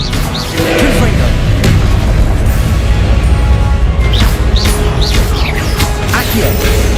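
Spell blasts and impacts from Hogwarts Legacy gameplay, including Confringo explosions, sound as repeated booms and crashes layered over dense, loud game audio, with a player's voice shouting spell names throughout.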